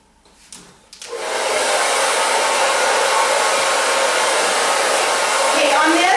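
A hair dryer blows steadily and loudly on a section of long hair during styling. A soft rustle comes first, then the airflow roars up and holds unbroken to the end, with no voices.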